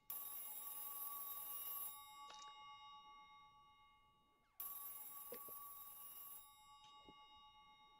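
A telephone rings in the video game Silent Hill 3, sounding as two long bright electronic bursts with a gap between them, loud and clear, with no talking.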